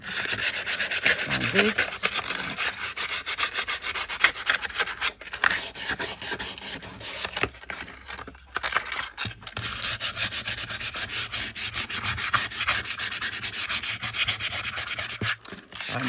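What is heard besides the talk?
sanding a piece of wood by hand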